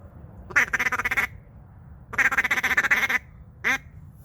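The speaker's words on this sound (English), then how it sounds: "here's the same thing, the feed call with the duck commander" Duck Commander duck call blown in a feed call: three bursts of rapid, raspy quacking chatter, two long runs and a short final one, loud and close with no talk.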